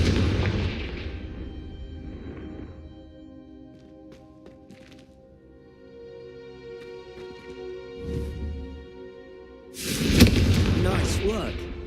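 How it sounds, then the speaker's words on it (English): A Confringo spell blasts out in Hogwarts Legacy. A burst opens the clip and a louder blast comes near the end, with quieter rumbling between them and voices talking over parts of it. "a Confringo cast travels a bit farther than that of a spell like Incendio"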